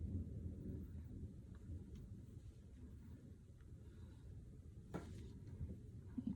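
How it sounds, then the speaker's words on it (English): Distant thunder rolls as a low, soft rumble under quiet room noise, with a brief sharper crack near the end. "Oh, there's some thunder."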